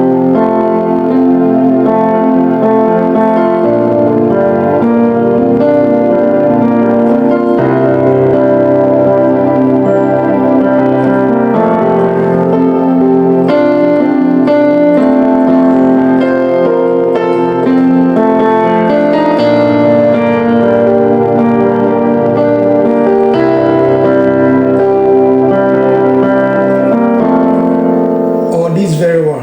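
An electronic keyboard voiced for worship music plays sustained, layered pad-like chords with melody on top, loud and continuous for the whole stretch with no talking.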